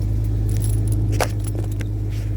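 Engine of a 1995 Jeep Cherokee running at a steady idle after an ignition switch repair, a constant low drone with a metallic jingle of keys and a few light clicks on top.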